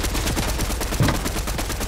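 Video game gunfire rattling in a dense, continuous burst, with one sharper, louder shot near the middle, loud and close throughout.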